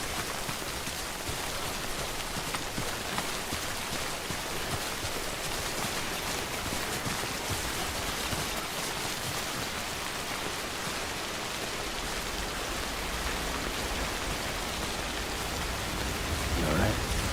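Timefall rain pours in Death Stranding, a steady, even hiss of heavy rainfall on the ground that holds for the whole stretch with no letup, while a voice talks faintly underneath.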